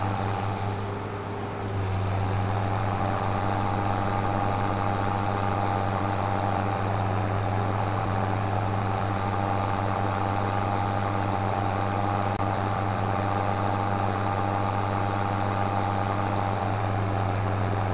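A tractor engine in Farming Simulator 25 runs steadily at a constant low drone with a faint higher whine, loud and unbroken, with no talk over it.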